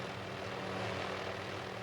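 Helicopter flying near Juneau, Alaska, toward Admiralty Island, a steady droning engine and rotor hum that sounds faint and distant, with no voices.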